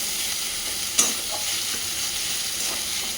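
Tomato and other vegetables fry in a small amount of oil in a pan, giving a steady close sizzle with one sharp stir or clatter early on.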